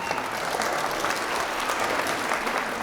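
Audience at a comedy magic show breaks into loud, continuous clapping and cheering for the whole stretch, dense and close.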